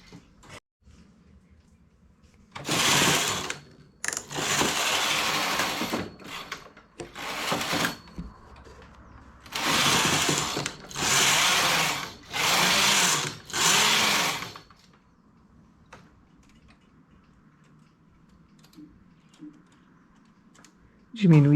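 A knitting machine carriage is pushed across rows to make a cabled skirt, producing several loud, rushing mechanical passes of one to two seconds each, separated by short quiet gaps and soft handling noises.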